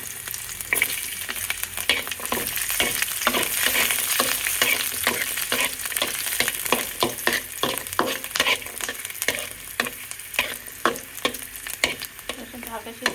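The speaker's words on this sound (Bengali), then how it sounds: "এখন আমি মরিচগুলো ভেজে নেব। আমি রসুনগুলো দিয়ে দেব।" Chillies and garlic fry in a pan, a close, continuous sizzle broken by a brisk, rhythmic series of spatula scrapes and stirs, with no talk.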